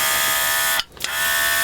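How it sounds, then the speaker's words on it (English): A battery-powered airbrush loaded with acrylic paint buzzes with a steady high motor whine, cutting out briefly near the middle before starting up again, close and fairly loud. "get me battery airbrush out"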